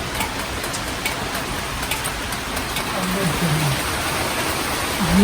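Heavy monsoon rain drums steadily around a leaking house, a constant close hiss of falling water with sharper drips, while a voice talks faintly beneath it.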